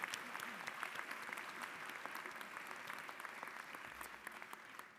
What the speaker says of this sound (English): Let's have another round of applause for these 4 extraordinary nurses.